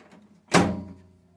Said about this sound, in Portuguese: Vamos fechar a porta.